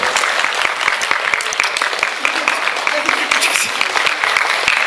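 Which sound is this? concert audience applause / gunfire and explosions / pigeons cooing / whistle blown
concert audience applause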